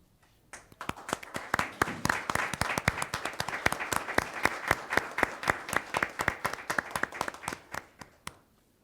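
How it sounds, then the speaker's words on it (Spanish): Applause in a municipal council session: a modest group claps in crisp, fairly distinct strikes that build quickly, hold steady for several seconds, then thin out to a few last claps. "Un aplauso, por favor."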